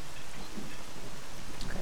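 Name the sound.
rain falling in a video game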